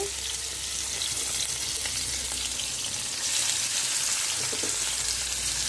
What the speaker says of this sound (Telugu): సిమ్లో పెట్టుకొని వేయించుకోవాలి ఇవి